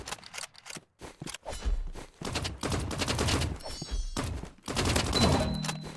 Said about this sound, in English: Ren might not be able to see Jake, but Jake can see Ren's shoulder and land a couple of shots.